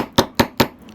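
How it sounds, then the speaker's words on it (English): A flat-faced hammer strikes metal earring wire on a bench block, giving three sharp, evenly spaced taps close by with a faint fourth at the end, and no talking. "the flat end of the hammer"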